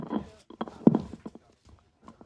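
A horse's hooves clip-clop on a road at an outdoor Eid-ul-Fitr celebration, a handful of irregular, fairly faint knocks with a brief crowd murmur behind them.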